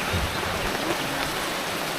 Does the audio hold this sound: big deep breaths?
no